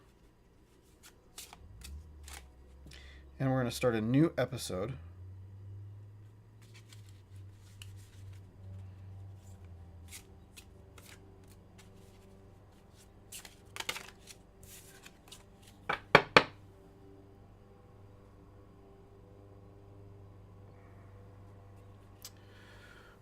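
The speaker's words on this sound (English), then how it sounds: "I'm gonna put them in and shuffle it." A deck of cards shuffled during a solo tabletop game session, with a short riffle burst near the start followed by scattered taps and card handling, a second flurry later, and a voice speaking briefly over the quiet stretches.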